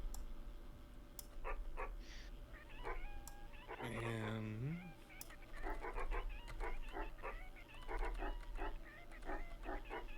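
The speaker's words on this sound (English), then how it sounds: "everyone now just meow noises, bark noises constantly." Meowing and barking sound effects in the video game Webfishing recur over a steady background, with short cat-like cries and yips alongside some talking.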